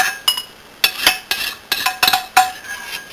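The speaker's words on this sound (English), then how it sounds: "Scrape as much as you can out of your pan" Elderberry is scraped out of a pan with a run of quick, close metallic scrapes and clinks, loud and rhythmic, with no voices.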